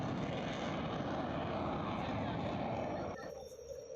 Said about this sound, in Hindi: आसमान में गरजते लड़ाकू विमान भारत की बढ़ती शक्ति के प्रतीक हैं